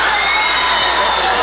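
Crowd at a Shakey's G-League volleyball opening match cheering and shouting loudly and continuously, a dense roar of voices filling the whole moment.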